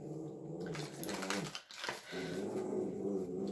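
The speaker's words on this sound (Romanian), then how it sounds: "Cățelușa mea începuse să facă pe aici gălăgie." A small dog barks and growls close by in a room, the noise continuing steadily over several seconds with a short gap midway, with faint tapping in the background.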